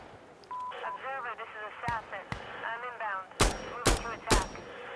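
Gunfire in the video game Insurgency Sandstorm: two sharp single shots, then three loud, evenly spaced blasts near the end, with someone talking through much of the clip.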